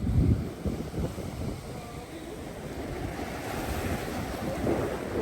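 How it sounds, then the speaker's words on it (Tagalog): Strong ocean waves surging on a beach in Real, Quezon, a loud rushing roar with a heavy crash at the start, buffeted by wind noise on the microphone. "Oh, lakas ang alon."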